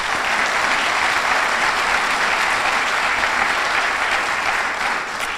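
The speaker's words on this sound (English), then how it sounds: "So please, another round of applause for our public partners." Dense, steady applause from a crowd at a business awards ceremony honoring public partners, loud and sustained without a break.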